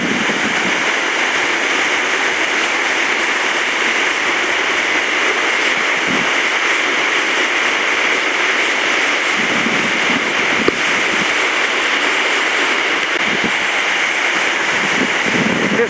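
Browns Falls waterfall pouring over a basalt rock formation, a loud, steady roar close by with gusting wind buffeting the microphone and no voices.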